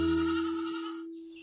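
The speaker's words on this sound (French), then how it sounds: "La maman chèvre entendit les cris de ses petits à l'intérieur." Young goats bleat in a cartoon, a single drawn-out, steady-pitched cry that fades out gradually, loud and close with no talking.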